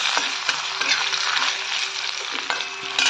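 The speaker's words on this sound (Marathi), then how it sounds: "आपल्याला घ्यायचा आहे टाकून इथं कांदा कांदा लाल करून द्यायचा" Onion being browned in oil while making hotel-style lasuni methi, giving a bright steady sizzle with regular scraping strokes of a spatula stirring it around the pan, close up and with no talking.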